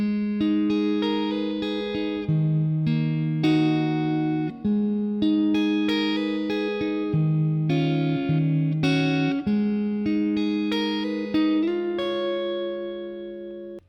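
A guitar plays a pre-chorus as a steady run of clean, sustained single notes and short phrases, each note ringing into the next, heard close and alone with no talking.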